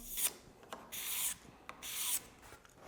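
Wooden stair posts are worked by hand with a card scraper and sandpaper: a series of about six scratchy, rasping strokes at an uneven rhythm, close and fairly loud, with short quiet pauses between strokes.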